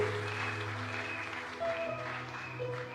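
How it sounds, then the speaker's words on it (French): A church congregation applauds to acclaim Jesus, a quiet, continuous patter of many hands clapping at a distance with a low hum beneath. "Est-ce que quelqu'un peut acclamer Jésus?"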